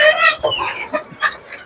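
Rooster and hens on a small desi chicken farm in Pakistan cluck and squawk at close range in quick, loud, overlapping bursts.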